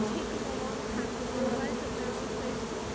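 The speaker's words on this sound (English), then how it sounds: "if I was to leave this until dusk, every bee would be in here." Honeybee swarm buzzing steadily and densely throughout, a continuous droning hum from many bees close by, with no talking during the clip.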